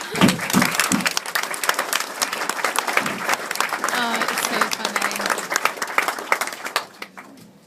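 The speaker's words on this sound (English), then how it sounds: "Big round of applause." Wedding guests break into loud, sustained applause during a groom's speech, a dense crowd clapping with a few voices mixed in, before the clapping thins and fades out near the end.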